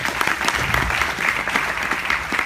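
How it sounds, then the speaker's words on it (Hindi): Loud applause from an audience at a business speech event, steady dense clapping with individual claps standing out, continuous and energetic throughout. "इनके लिए जोरदार तालियां हो जाए"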